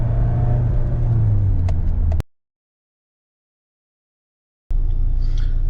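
Mahindra XUV700 SUV driving in Zoom drive mode, a steady low engine and road rumble that cuts out abruptly midway, then returns after a gap of silence.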